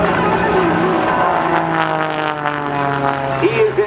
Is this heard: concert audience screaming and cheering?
no